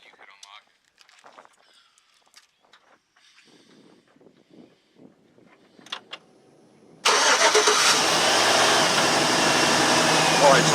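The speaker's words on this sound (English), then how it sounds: "started up, and now we're just letting it warm up, let it find its idle" A Chevy or GMC truck engine cranks and fires after quiet shuffling and faint talk, then settles into a steady, loud idle as it warms up.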